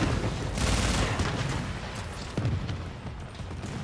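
Explosions and gunfire from the video game Warframe crackle in a dense, continuous barrage of booms and rapid shots, loud and close, with no talking over it.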